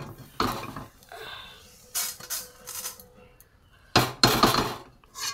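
A kadai (wok) is set back down on the stove while a vegetarian pumpkin and drumstick dish is being cooked. Several sharp metallic clanks and scrapes come close up, in two bursts with quieter gaps between them.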